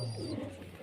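A prized homing pigeon coos softly nearby in a short, low, murmuring burst, with no talk over it.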